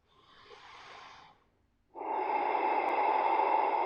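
A person breathes audibly while holding yoga poses: a soft, airy inhale fades out, a brief pause follows, then a louder, sustained exhale or inhale close to the microphone.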